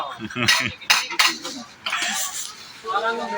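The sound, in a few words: metal kitchen utensils being handled in a shop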